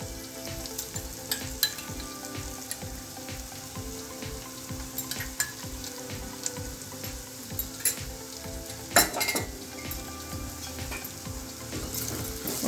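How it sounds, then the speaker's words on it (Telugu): Onions sizzle and crackle steadily in a hot pan with salt added, with frequent scraping stirs and clinks of the spatula close by, with no talking. "సాల్ట్ వేసుకుంటే ఉల్లిపాయలు తొందరగా ఫ్రై అవుతాయి."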